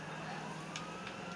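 An ambulance siren wails in the Grand Theft Auto video game, a steady electronic tone over engine rumble as the ambulance drives off-road, with a couple of brief higher blips.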